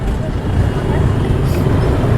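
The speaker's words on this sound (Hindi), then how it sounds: "इतना ट्रैफिक।" Karachi city traffic heard from a motorbike ride: a loud, continuous low rumble of engines and road noise close around, with wind buffeting, running steadily without pause.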